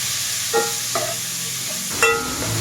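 Shrimp stirred while frying in a pan, a steady loud sizzle with a few short scraping clinks of the utensil against the pan.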